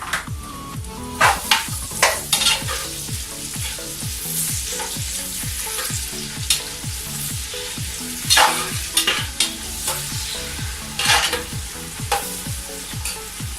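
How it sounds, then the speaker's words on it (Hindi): Onions frying in hot oil, browning while being stirred, give a loud continuous sizzle punctuated by regular scraping and knocking strokes of the stirring spoon, with no speech. "अब हम इसके अंदर प्याज डालेंगे और प्याज को हम हल्का ब्राउन करेंगे।"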